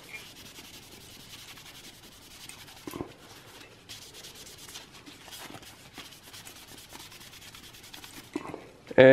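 Cloth with rubbing alcohol wiping old thermal paste off a CPU in a Dell Precision T5500, producing soft continuous rubbing and scrubbing strokes up close, with a few small knocks and no talking.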